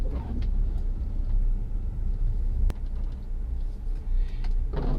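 A Tesla Model 3 holds a long, slow drift through snow with the accelerator floored, giving a steady low rumble from inside the car, a single sharp click partway through, and no voices.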